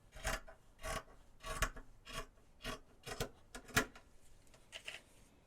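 Scissors trim the bottom edge of fabric for a softcover journal cover, close up and quiet. About eight rasping snips come in an uneven rhythm, with no talking.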